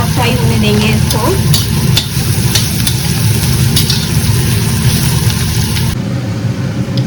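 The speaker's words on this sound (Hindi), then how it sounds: "इधर मेरी इडली भी फ्राई हो रही है, थोड़ा सा प्याज और फ्राई होने देंगे इसको।" Onions frying in a pan beside idli on a home kitchen stove, a steady loud sizzle with stirring scrapes running throughout, easing slightly near the end.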